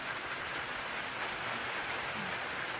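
Steady rain patters on a tin shed roof, a dense even hiss with no pauses and no voices.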